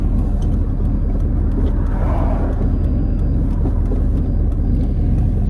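Race truck with a slipping 4L60E transmission, heard from inside as a loud, steady engine drone and road rumble with no talking.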